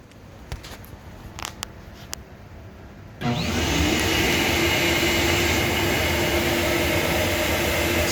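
A flow bench pulls air through a stock Ford GT40 Explorer intake manifold bolted together at the number 2 runner. After a few faint clicks it starts abruptly into a loud, steady rushing roar that holds to the end.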